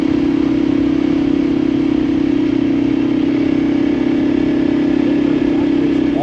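A Honda CRF300L Rally motorcycle runs on the road, its engine holding a loud, steady drone at constant speed with wind rush layered over it.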